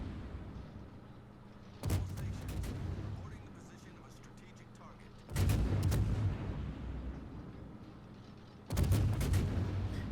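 Heavy naval gun salvos boom in a World of Warships battle involving a Yamato battleship and the Smolensk cruiser, with three loud broadband blasts spaced a few seconds apart over a steady low engine and sea rumble.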